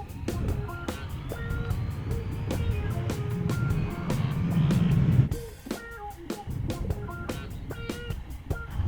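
A 2020 Yamaha MT-09 motorcycle being ridden, its engine drone steady and close with a rise around the middle, then a pause and resumed riding with wind and mechanical ticks.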